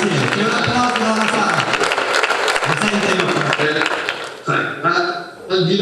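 An audience in a hall at a public meeting breaks into applause, dense clapping for about four seconds before it thins out and a voice takes over.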